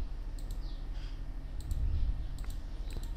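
Computer mouse clicking during QR code colour selection on a Windows computer: several sharp, separate clicks spread irregularly over a few seconds, close and distinct over low background hum, with no talking.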